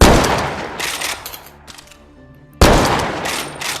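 Sniper rifle shots in a VR shooting game: two loud, sharp gunshot blasts, one at the start and one near the end, each with a brief ringing tail, close and alone.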